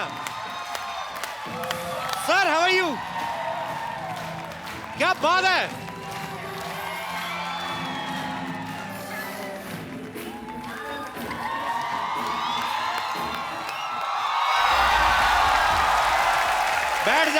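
A Hindi comedy show studio audience cheers and applauds loudly, with whoops rising in bursts, while someone speaks over the noise and the crowd swells louder toward the end.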